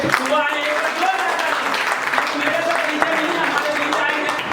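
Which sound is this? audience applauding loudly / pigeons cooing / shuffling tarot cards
audience applauding loudly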